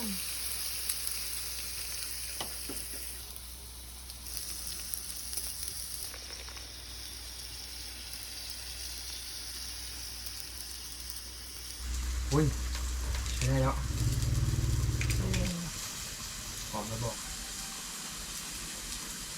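Pork sizzles and fries on a Thai moo kratha grill pan at an outdoor meal. The hiss carries on throughout, with a louder burst of sizzling partway through, and people talk in the background.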